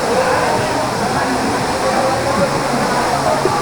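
Dampalit Falls in Los Baños, Laguna pours in a steady, broadband rush of falling water, loud and close, with a voice briefly audible over it.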